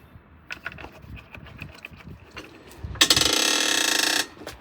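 Lug nuts on a car wheel are worked by hand, with scattered light clicks and clinks of the wrench, then a loud continuous rapid ratcheting burst lasting about a second near the end.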